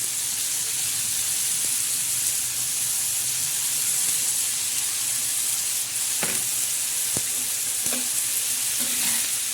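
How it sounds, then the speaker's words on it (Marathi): Fenugreek leaf vegetable fries in a pan with a constant bright sizzle while a spoon stirs it, adding occasional scrapes and clinks against the pan, with no talking. "पण मस्तपैकी हलवून घ्यायची पहिले अशी मेथीची भाजी बनवून घ्यायची आपण"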